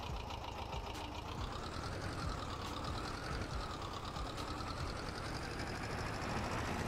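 Tractor engine running in the Farming Simulator 22 game, a steady low rumbling idle held evenly throughout, fairly quiet, with no talking.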